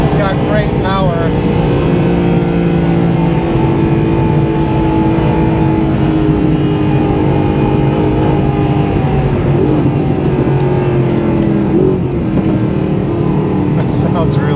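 Onboard a Mercedes SLS Black Series at the Nürburgring, the engine drones loud and steady as the car accelerates, pitch climbing and settling through gear shifts.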